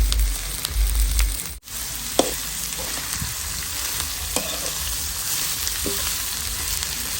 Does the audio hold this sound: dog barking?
no